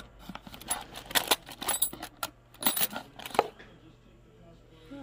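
Old metal keys are sorted by hand in an antique store, making soft, scattered clinks and jingles in short clusters, faint and close.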